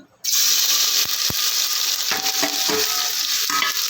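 Onion and tomato hitting hot oil with cumin seeds, a sudden loud sizzle that bursts in and keeps frying steadily, with a few sharp clicks of a stirring spoon against the pan.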